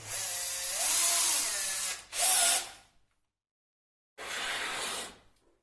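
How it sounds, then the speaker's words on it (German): A cordless drill bores holes into the wooden panel of a snare cajon kit in three bursts, two long whining runs close together, then a pause before a final one. "Jetzt suchen wir uns die Stellen, wo die Pieksungen sind und bohren vorsichtig und genau die Löcher ein."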